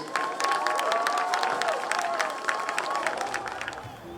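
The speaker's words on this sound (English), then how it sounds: "Ladies and gentlemen, one more big round of applause for our Somerville High School seniors." Crowd applause and cheering for Somerville High School seniors at a spring high school football game, a dense, steady roar of many clapping hands that stays loud throughout before tapering at the very end.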